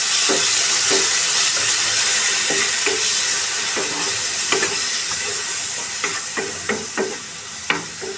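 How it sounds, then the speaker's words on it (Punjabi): Finely ground onion paste frying in ghee with roasted spices, a loud, continuous close-up sizzle broken by sharp scraping and tapping of a utensil stirring through the pan, growing slightly quieter toward the end. "ਹੁਣ ਆਪਾਂ ਇਹਦੇ ਵਿੱਚ ਇਹ ਵਾਲੇ ਪਿਆਜ਼ ਇਹਨਾਂ ਨੂੰ ਮੈਂ ਬਰੀਕ ਗ੍ਰਾਈਂਡ ਕਰ ਲਿਆ ਸੀ ਇਹ ਪਾਵਾਂਗੇ"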